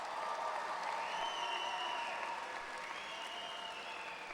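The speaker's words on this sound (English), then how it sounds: "Let's give them another round of applause" Sustained, dense applause from a large audience greets graduates at a Harding Senior High School graduation ceremony in St. Paul, steady and even throughout with sustained tones ringing above it.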